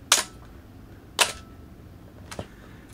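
A Canon AE-1 Program film camera fires its shutter at a one-second exposure: a sharp metallic click, a second click about a second later, then a softer third click, all close and alone in a quiet room.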